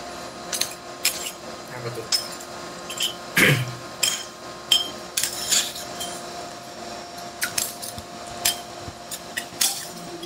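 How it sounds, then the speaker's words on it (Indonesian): Scattered metallic clinks and scrapes of a spoon against a plate, irregular and fairly close, with faint background murmur. "suara perang antara sendok dan piring."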